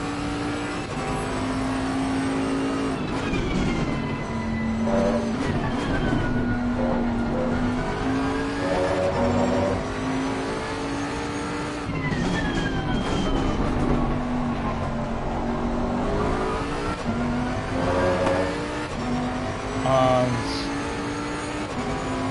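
Race cars lap Imola in the ACC racing game on PS4, and the engines whine and rev without a break as the cars accelerate and shift. A quiet voice comes through now and then under the steady engine noise.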